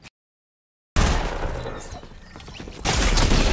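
Dense bursts of video game gunfire erupt suddenly after a short silence, a rapid volley of shots with shattering impacts, loud and close, swelling again near the end.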